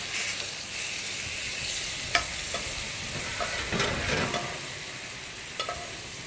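Butter browning in a hot pan for cod sizzles and fizzes steadily for several seconds, with a few sharp spatters and scraping stirs standing out close by.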